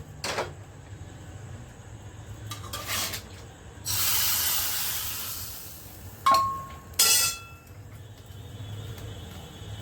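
Hot tempering poured into cooked chana dal gives a sudden loud hissing sizzle lasting over a second, between a few scattered knocks and two sharp clanks of utensils, with no talking.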